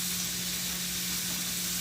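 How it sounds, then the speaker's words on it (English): Onions and peppers fry in a pan in a home kitchen, giving a steady, close sizzle with a low constant hum beneath and no talking. "I'm just frying up some onions, some peppers."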